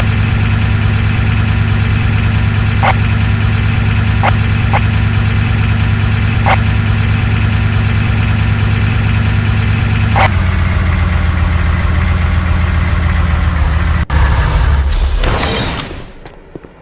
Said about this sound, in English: Take the Humvee around the entire track to complete the next objective.